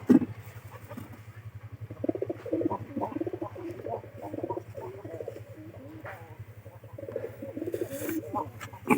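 Soft, rhythmic pigeon coos repeat close by in a steady low murmur, with faint background hum and occasional louder sounds.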